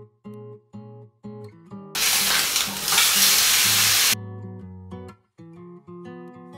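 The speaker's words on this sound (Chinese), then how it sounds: "每面各煎45秒。" Steak sears in a hot dry-heated frying pan, a loud dense sizzle lasting about two seconds between stretches of plucked background music.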